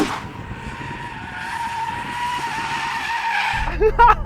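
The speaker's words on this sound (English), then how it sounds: "I'm going to try and do a donut in this S8." Loud, sustained tyre squeal from an Audi S8 spinning a donut to warm its tyres before a drag race against a Bentley Flying Spur, steady for several seconds and then breaking off near the end with a brief voice.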